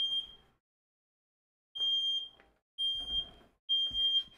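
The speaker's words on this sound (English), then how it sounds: "And that is the fire alarm" A kitchen smoke alarm goes off while meatball subs are cooking, sounding four loud, piercing high electronic tones with short silent gaps between them.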